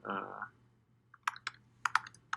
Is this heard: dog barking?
no